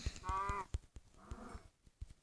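Two short, low cow moos from Minecraft Pocket Edition, separated by soft clicks and thumps.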